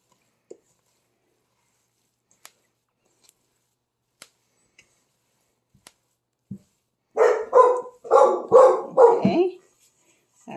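A pet dog barks several times in a quick burst from nearby indoors, loud and clear after a quiet kitchen with faint clicks and a thud.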